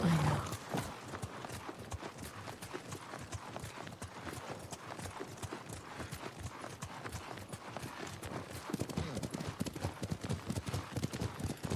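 Horse hooves gallop steadily in the video game Ghost of Tsushima, a fast, continuous clip-clop rhythm close up throughout, with faint rustling in the background.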